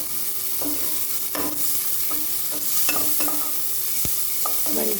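Red and yellow capsicum are stir-fried together in a pan for a vegetarian pulao: a close sizzle runs under repeated spatula scrapes and stirring strokes, some sharp and distinct.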